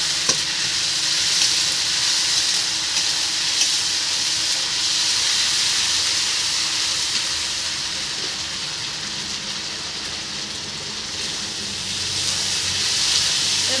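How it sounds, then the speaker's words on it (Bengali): Ginger paste and garlic frying together in a pan as a home kitchen cook stirs them: a steady, close, bright sizzle with soft hiss that runs continuously, dipping slightly midway, with no talking. "আদাটাকেও হালকা ভেজে নেবো"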